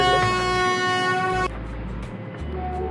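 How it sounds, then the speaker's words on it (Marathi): A passenger train bound for Kolhapur sounds a long, loud horn blast with rich layered tones, then the horn cuts off, leaving the steady rumble of the moving train. "चालली बघा ट्रेन."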